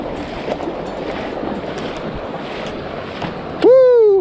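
Rushing creek water fills the air as a hiker wades across a swollen Ohio creek, a steady loud roar blended with wind buffeting the microphone, ending with a sudden voiced whoop.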